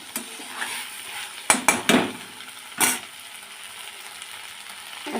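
A pan of poppy seed, ginger and cumin paste being stirred, with a low sizzle under several sharp scrapes and clanks of a utensil against the pan.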